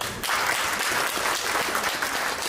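Audience at a government event for International Domestic Workers Day applauds a speaker from Oxfam Kenya, a loud, dense, even wash of many hands clapping that starts abruptly and holds steady.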